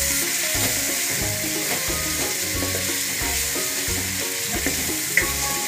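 Onion and tomato frying lightly in a pan, a steady close sizzle with a rhythmic scraping of stirring throughout, no voices.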